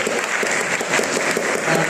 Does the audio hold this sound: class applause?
yes